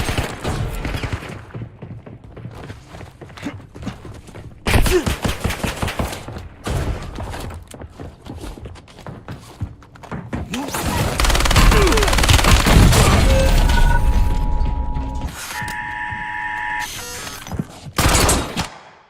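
Gunfire in Call of Duty Warzone crackles through a busy firefight, with repeated bursts and single shots of varying loudness, some close and some farther off, plus a few heavier thuds.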